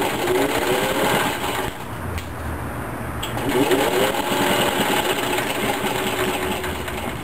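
A sewing machine stitches Velcro strips onto a fabric bread and snack bag, a fast buzzing whir running nearly continuously with a brief dip partway through, close and fairly loud.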